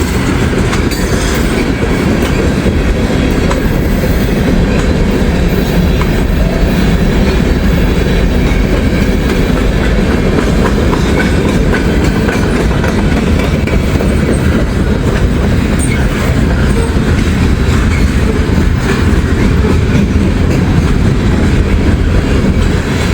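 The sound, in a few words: freight train with DPU locomotive passing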